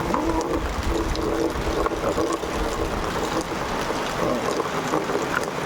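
Heavy rain pours down around a house with an extended roof, runoff water streaming off, making a loud, constant broadband hiss with low rumbling and no talking.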